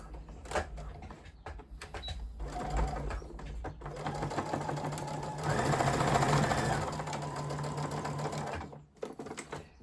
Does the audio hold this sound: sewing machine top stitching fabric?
yes